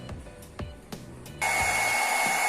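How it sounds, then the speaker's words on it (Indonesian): A handheld hair dryer switches on partway through, roaring as a steady, close, loud whoosh with a high whine while it blows hot air onto an automotive intake air temperature (IAT) sensor. A few knocks and handling sounds come before it starts. "Selanjutnya kita manasi IATS menggunakan hair dryer nanti sampai ke suhu 45 derajat"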